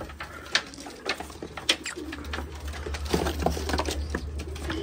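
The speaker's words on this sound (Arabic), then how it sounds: "شوفوا ذني جولدنات، طيور ملقحة وكاملة" Pigeons coo in a loft, soft throaty calls repeating close by with wing flutters and scuffling over a low steady hum, no one speaking.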